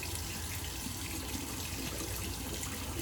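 Cold tap water runs steadily into a sink during a wet shave, a constant close hiss of flowing water with no pauses and no voices.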